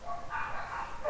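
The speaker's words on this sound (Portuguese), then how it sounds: "Cachorro na rua." A dog out in the street barks in a few muffled bursts, sounding distant and soft as it carries in from outside, with no one talking.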